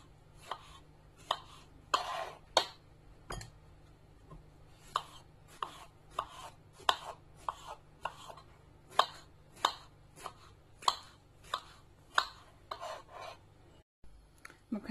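A knife chops through scooped-out aubergine flesh on a board in a home kitchen, making about twenty crisp, rasping cuts in a steady, slightly uneven rhythm. The chopping is close and clear, with no voices.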